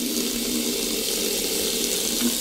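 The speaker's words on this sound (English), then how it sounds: "You're going to turn the hot and the cold water on." Water runs steadily from a hot-and-cold sink tap during catheter care hand washing, a continuous even hiss of flow without pause or voices.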